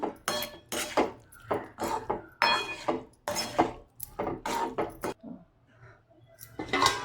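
A utensil stirs and scrapes capsicum and crushed peanuts in a metal pan, repeated clinking scrapes in uneven bursts with brief pauses, close and fairly loud.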